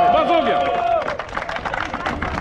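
Crowd clapping at a winter-swimmers' season-closing gathering with a first-timers' initiation, applause breaking out after an announcer's voice and continuing in uneven bursts with some crowd murmur.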